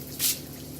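A single short hiss of Fry Light low-calorie cooking oil spray, a quick pressurised burst that fades almost at once.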